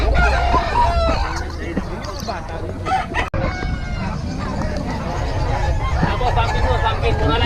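Roosters crow and chickens cluck amid a busy crowd's babble of buyers haggling, a dense noisy chicken market scene with many birds close by.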